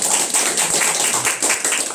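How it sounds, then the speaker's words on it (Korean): A small church congregation clapping to welcome a new member, close, light and uneven hand claps filling a brief moment. "우리 박수로 환영하도록 하겠습니다"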